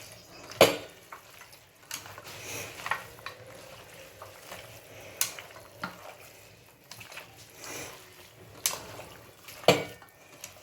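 Mutton is mixed with ginger garlic paste in a pot, a spoon scraping and clanking against the metal in irregular strokes, fairly quiet and close, with a faint sizzle underneath and no voices.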